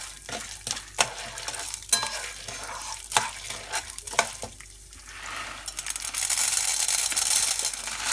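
Popcorn kernels stirred in oil in a metal pot, repeated scraping and rattling strokes at an irregular rhythm, followed by a rising, steady sizzle at the end.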